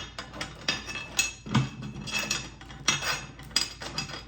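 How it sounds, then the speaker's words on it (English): A key turns in the lock on the top of a VEVOR coin-operated gumball machine, producing a series of close metallic clicks and scraping clinks with no talking. "So if we put the key in here and we unlock the top"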